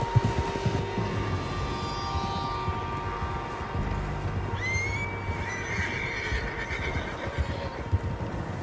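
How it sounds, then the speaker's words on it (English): Horses whinny and neigh several times in Red Dead Redemption 2, with soft hoof clip-clops and outdoor game ambience underneath, moderately close and with no talking. "Tracks. Horses, quite a few of them."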